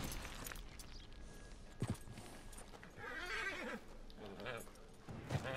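A horse whinnies amid hoofbeats and busy background noise in the video game Red Dead Redemption 2, with brief vocal bursts; the neigh rises and falls in the middle.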